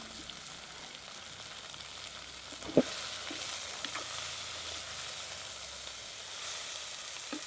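Crushed garlic sizzles in hot oil for a Jaffna-style prawn and drumstick curry. A steady, crackling fry runs throughout with one sharp clink partway through, and no voices.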